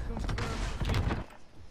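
Gunfire in the video game Warzone, a short burst of muffled shots and thumps for about a second, then a quieter tail with background noise.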